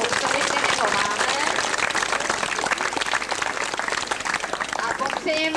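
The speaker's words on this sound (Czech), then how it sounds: "zatleskáme druhému nejstaršímu psovi, kterého máme" An audience applauds an old dog at a dog show, brisk crowd clapping with distinct hand claps near the front, continuing under voices that talk throughout.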